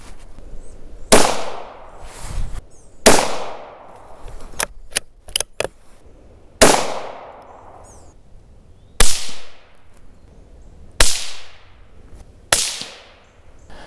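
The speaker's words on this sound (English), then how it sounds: "Let me play those shots, both unsuppressed and then suppressed, back for you, and you can be the judge." Sharp, loud cracks from a .17 HMR rifle, first unsuppressed then suppressed, spaced a second or two apart outdoors, each crack followed by a fading echo tail, with a few quick clicks between shots.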